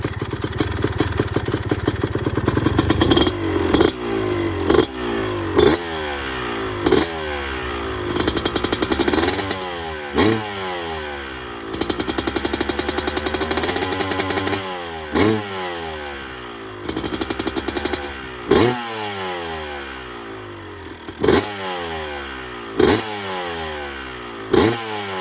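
Revs are thrown at a two-stroke dirt bike, a YZ250 engine converted into an RM-Z250 frame with a Smartcarb on 28:1 premix, giving repeated sharp, loud blips that rise and fall back to a crackling idle, close to the microphone.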